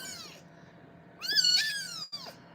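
A young kitten meows several times nearby, thin high-pitched cries with one longer drawn-out call in the middle, loud and clear against a quiet room.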